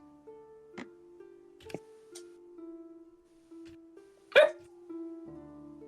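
A dog gives a quiet string of short whining yips and small barks, then one louder bark near the end, heard alone in a quiet room.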